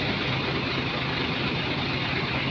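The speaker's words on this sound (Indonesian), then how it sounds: "Yang saya naikin ini yang punya mesin Hino." A bus with a Hino engine, Laksana bodywork and twin exhausts idles in a steady, unbroken low rumble with a broad hiss, close and constant, with no talk over it.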